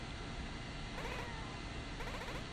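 Two short cat meows from the video game Momodora: Reverie, evenly spaced about a second apart over a steady background of game music and ambience.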